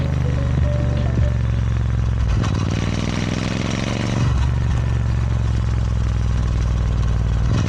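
A motorbike engine idles and revs nearby through its exhaust, with a loud steady drone, a clattering burst around the middle and another throttle swell later.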